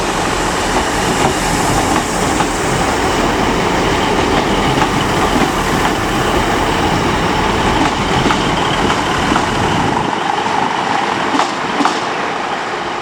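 British Rail Class 150 diesel multiple unit 150002, a three-car set on a service from Sheffield, rumbles steadily and loudly past at a Leeds station platform, with constant broadband engine and wheel noise that eases slightly near the end.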